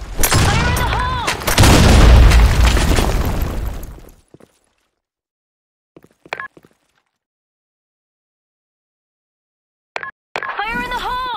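Loud grenade blasts in the Blackshot video game for about four seconds, a broad rumbling burst with debris, then near silence with brief clicks and game voice callouts.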